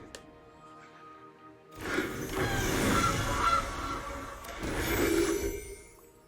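Goose honks from a conjured goose creature in Magic: The Gathering Arena, a few loud honking calls over game background sounds, with no talking.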